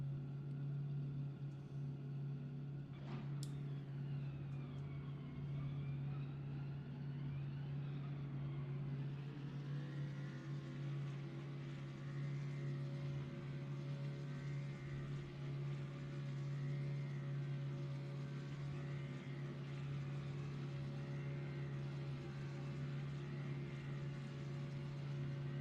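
Simulated car engine idling in a racing game, a steady low drone with strong harmonic bands held unchanged and alone throughout, with a brief sharp tick early on.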